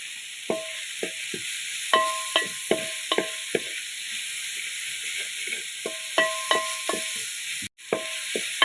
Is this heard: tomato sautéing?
yes